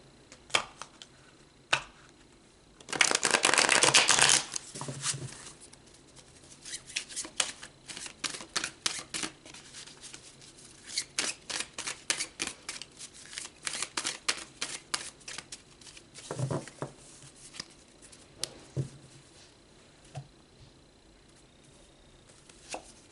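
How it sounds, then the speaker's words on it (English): A deck of tarot cards is riffled in one loud burst lasting about a second, then comes a long run of crisp taps and flicks as cards are handled and laid down, recorded close up with no voice. "Let's pull some more cards."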